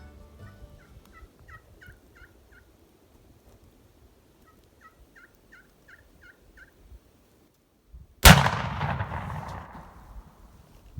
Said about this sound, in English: here's the small clip of Tim killing his first Merriam